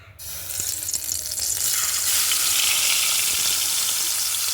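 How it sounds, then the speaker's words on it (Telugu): Fish laid into hot oil in a pan erupts into a loud, steady sizzle that builds after a brief quieter start and holds bright and continuous throughout, close up with no talking. "నూనె వేడైంది ఫ్రెండ్స్ ఇప్పుడు చేప పెట్టుకుందాం"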